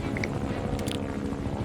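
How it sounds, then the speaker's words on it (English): A helicopter in the video game Metal Gear Solid V drones steadily with a low rotor rumble, faint and distant, with a couple of brief higher clicks over it. "I'll knock out this helicopter with my rubber bullets"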